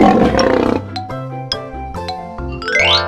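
A deep, rough lion roar opens over a bright, bouncy music track, fading after about a second while the tune carries on.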